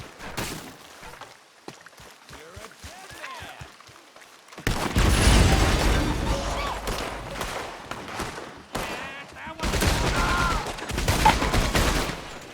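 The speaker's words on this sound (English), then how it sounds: "Get on that Gatling gun" A Gatling gun fires in the Red Dead Redemption 2 video game: a long, loud, rapid burst of heavy gunfire kicks in after quieter scattered shots, with brief pauses between bursts and voices shouting over the action.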